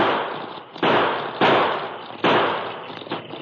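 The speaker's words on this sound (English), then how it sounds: "pulled a pocket model revolver. In quick succession, he triggered out 6 shots." Sharp gunshot bursts from a short-barreled pocket revolver in a radio drama, four loud cracks spaced unevenly, each with a fading tail under a steady hiss.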